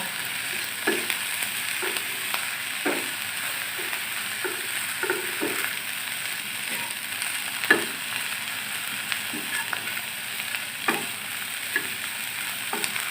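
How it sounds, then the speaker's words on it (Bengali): Small shrimp frying in a little oil in a pan, a steady close sizzle broken by repeated soft scrapes and knocks as the shrimp are stirred, with no talking. "চিংড়ি মাছটাকে আমি অল্প আছে 2 মিনিট ভেজে নেব।"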